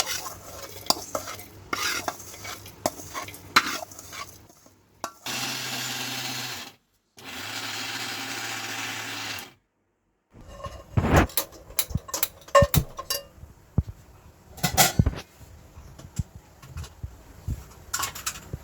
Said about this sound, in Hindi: तो हम इसको जार में लेके पीसेंगे।